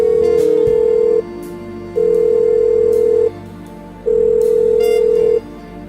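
Telephone ringback tone in the adventure game Blackwell Unbound: three long, steady, loud ring bursts separated by short pauses, following brief dialing clicks at the start, with no talking.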